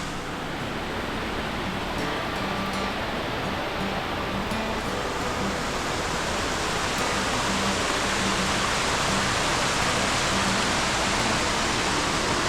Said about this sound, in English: back behind this light is this awesome waterfall